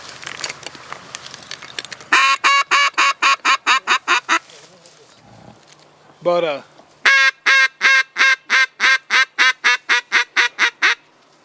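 Ducks near a hunting blind sound off in rapid, loud runs of rhythmic quack-like calls, likely from a caller mimicking them, in bursts separated by short pauses, with a brief voice in between.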